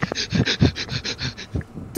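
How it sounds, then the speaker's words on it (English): Rapid, forceful panting breaths repeat in a steady rhythm, about ten quick puffs close to the ear, in a comedic hospital game scene, followed by a brief high voiced sound at the end. "Too much breathing!"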